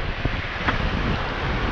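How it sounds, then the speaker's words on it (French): Strong wind at sea buffets the microphone in a constant roar, with a rushing, wave-like wash beneath and no voices. "le vent souffle comme ça"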